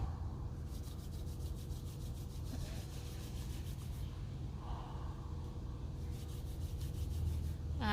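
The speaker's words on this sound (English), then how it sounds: "Take a nice deep breath and blow some warmth into your hands. And rub them together." Palms rubbing briskly together to warm them during a garden yoga session, a soft steady swishing friction that repeats in several close, quiet strokes with faint breathing and outdoor hush around it.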